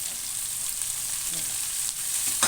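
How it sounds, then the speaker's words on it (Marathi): Sliced okra and potato sauté in a hot pan, giving a steady, close hiss of sizzling oil that runs continuously without pause, with a few soft stirring scrapes. "मला एकदम मस्तपैकी परतून घ्यायचं आहे आता याला परतून घ्यायचं बघा"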